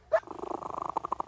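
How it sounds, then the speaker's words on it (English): A cat purring up close in a rapid, rhythmic rumble, beginning with a brief higher-pitched vocal sound. "That's a happy cat."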